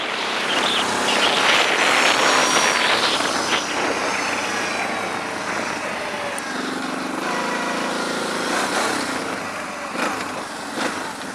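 A quad ATV's small engine buzzes and revs at close range, rising and falling in pitch, with no talking over it.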